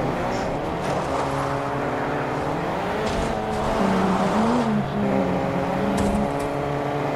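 A car engine in Fortnite during a demolition derby: continuous droning motor with shifting revs, rising and wavering pitch as the car drives, close and steady with faint scrapes and no talk.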